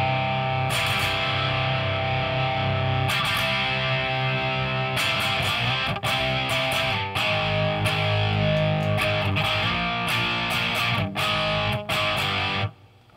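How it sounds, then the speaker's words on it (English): Heavily distorted electric guitar played through a Peavey 6505 Piranha amp with a boost pedal in front, loud and continuous with chugging, rhythmic chords, alone without talk. "if you have a boost pedal up front, you can definitely get a great tone."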